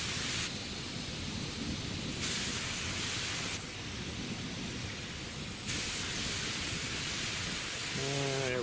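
A paint spray gun lays down a light coat in steady hissing bursts, loud and close, with the pitch and level shifting as the trigger is adjusted between passes; near the end a brief tonal hum comes in.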